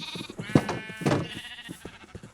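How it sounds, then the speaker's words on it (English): Sheep bleat in the Minecraft video game, two strong wavering bleats from a sheep farm, close and clear, with softer bleats trailing after. "I have the sheep farm here anyway. So I might as well just breed them."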